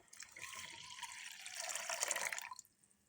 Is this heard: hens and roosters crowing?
no